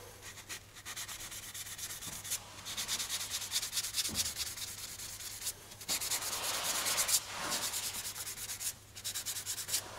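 Metal being hand-sanded with 400-grit sandpaper while a welded panel is prepped for paint, producing close, continuous rasping strokes in a steady back-and-forth rhythm with brief dips between passes.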